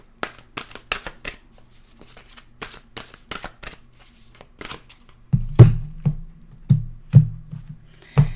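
Oracle cards are shuffled by hand at close range in a quick run of crisp riffles, then a series of soft, regular thumps as the deck is tapped or cut, with no talk.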